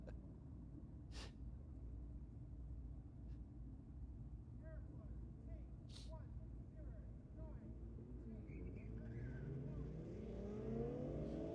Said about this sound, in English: our next pair leaving the start line. The Commodore already in front of the Golf